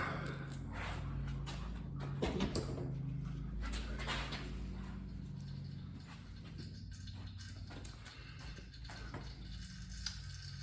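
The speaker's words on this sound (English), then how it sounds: "Well, it's still dripping. You might be able to hear that, but it can drip forever." Motor oil drips steadily from the drain hole of a 2012 Mercedes S550 W221 during an oil change, a soft, close patter under a continuous wash of liquid noise with faint clicks, no talk.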